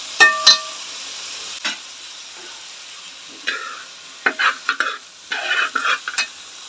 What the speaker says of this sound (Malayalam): ഈ എണ്ണയിലിട്ട് ഇതൊന്ന് ഈ നെയ്യിലും ഇതിലും കിടന്ന് കുറച്ച് നേരം ഒന്ന് നമുക്ക് വറുത്തെടുക്കാം.